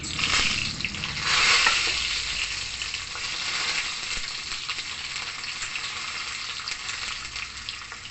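Cumin, mustard and fenugreek seeds fry in hot oil with a dense, crackling sizzle that swells loudly in the first seconds and then settles into a steady hiss, heard close with no talking.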